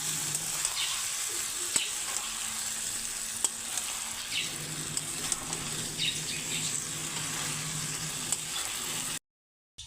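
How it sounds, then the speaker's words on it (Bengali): Boiled jackfruit and potato sautéing for a Bengali egg and jackfruit curry, a steady close sizzle and fry with occasional stirring scrapes, continuous until a brief cutoff near the end. "তো আমি আর একটু কষিয়ে নেবো,"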